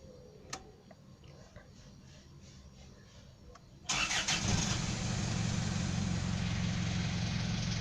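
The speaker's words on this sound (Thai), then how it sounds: "เนี่ยเดี๋ยวลองมาสตาร์ทเครื่องครับ" Ticking and faint clicks give way to a car engine that suddenly starts and keeps running at a loud, steady idle; the car has a rough idle and dropping revs when the air conditioning is on.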